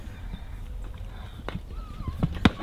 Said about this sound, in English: Love the thud you can hear when that horse kicks him.